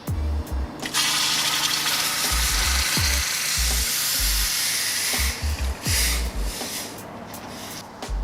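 Hot water poured onto grill coals hisses and sizzles into steady, loud steam lasting several seconds, with low gurgling and splashing bursts underneath and no talking.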